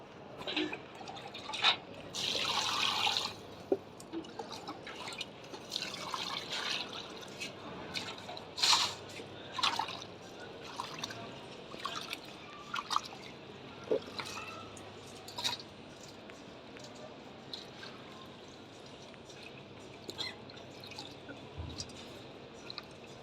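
Ingredients being washed by hand under running water in a home kitchen, with soft trickling water, scattered drips and light splashes, and occasional clinks and rustles close by.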